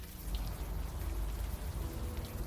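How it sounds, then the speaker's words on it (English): Soft, continuous rain patters on surfaces in the video game Unavowed, a faint, even hiss with low rumble and no other sounds. "let's go out into the rain"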